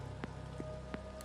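Rain falling in the video game The Séance of Blake Manor, a steady patter with a few distinct drop impacts landing at irregular intervals over a low background hiss.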